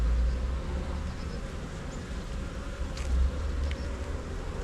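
Honeybees buzz in a continuous low drone as a hive is opened and inspected, close and steady, with brief louder swells.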